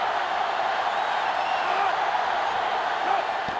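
Stadium crowd in NCAA Football 2005, a steady roaring wash of a sellout crowd, loud and constant with no distinct cheers standing out, a commentator's voice faint beneath.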